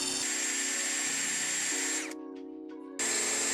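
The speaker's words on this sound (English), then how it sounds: "just get a drill piece that matches, which that seems to match, and then just sort of drill it out" A power drill whines steadily up close while drilling out rivets on a campervan during a window install, pitch shifting as load changes, briefly easing off before revving up again.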